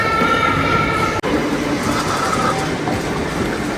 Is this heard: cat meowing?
no